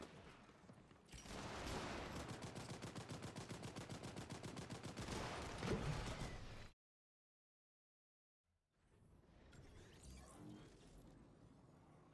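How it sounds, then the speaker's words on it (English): Rapid automatic gunfire in a shooter video game, with dense bursts sustained for several seconds, then a sudden drop to silence before quieter, scattered shots resume. "this team now they were shooting the entire time"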